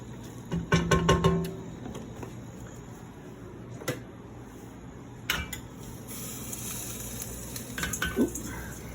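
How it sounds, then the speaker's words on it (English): Pasta tumbles into a hot pan with black pepper, setting off a steady close sizzle, with a brief burst of clattering cookware at the start and faint kitchen knocks later. "Now we're going to add our pasta."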